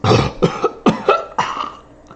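A voice imitates a long, ragged cough from inside a ship in a series of rasping, uneven bursts, trailing off at the end.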